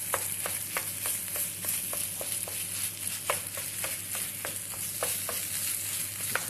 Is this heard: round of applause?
no